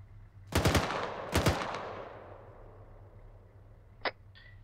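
In Arma 3, an MG3 machine gun fires two short, loud bursts with a long echoing tail, followed by a single sharper distant crack.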